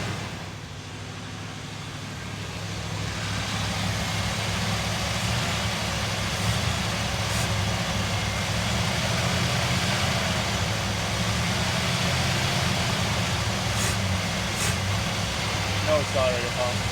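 The engine of a one-year-only square body truck, restarted after sitting for over a decade, idles steadily with a low, even hum, close and moderate in level, rising slightly after the first couple of seconds and running on without a break.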